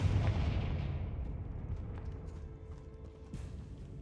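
A Confringo spell goes off in Hogwarts Legacy as a deep, booming blast that fades into a rumbling tail. A faint, sharp crack follows near the end, and there is no talking.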